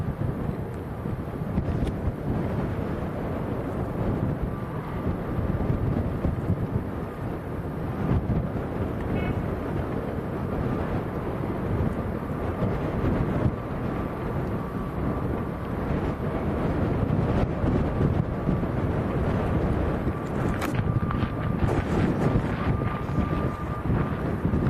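Strong crosswind roaring across Lanzarote Airport as an ATR turboprop struggles on approach, a steady loud rush of wind buffeting the microphone for the whole stretch, with a faint engine drone underneath and no talking.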